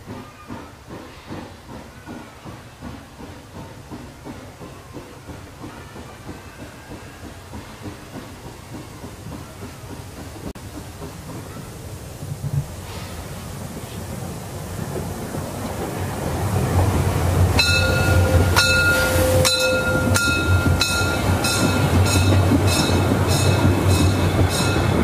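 The Molli steam locomotive 99 2321 of the Mecklenburg Bäderbahn, built in 1932, hauls a long train with a steady rumble and chuff; a loud hiss swells partway through, joined by squealing wheel tones.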